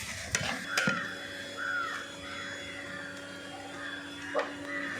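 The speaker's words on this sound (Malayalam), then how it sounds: "നമ്മൾ കുറച്ച് വെളിച്ചെണ്ണ കൂടെ ഒഴിച്ച ശേഷം ആ മല്ലിപ്പൊടി ഒന്ന് അതിൻ്റെ അകത്തിട്ട് തന്നെ ഒന്ന് മൂപ്പിച്ചെടുക്കുകയാണ്" Coriander powder roasting in coconut oil in a pan for a coconut chicken curry, a soft steady sizzle broken by a couple of sharp spoon knocks against the pan early on, close and fairly quiet.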